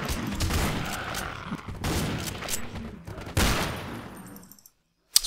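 Rapid, dense bursts of automatic gunfire from a German co-op shooter game, loud and close, firing in long sustained volleys with brief gaps before cutting to near silence at the end.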